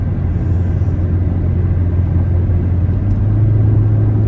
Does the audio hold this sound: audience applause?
no